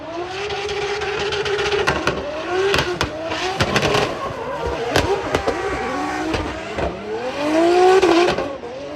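A brand-new drift car on a big race track at a Drift Masters event screams as its engine revs hard and its tires squeal through slides. The engine note rises and falls continuously, with sharp bursts throughout.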